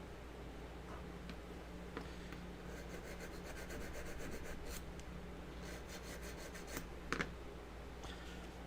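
Steel knife blade drawn across a sharpener while carving a foam alien chestburster prop, giving soft repeated rasping strokes in short bursts against a steady background hum, with a brief louder scrape near the end.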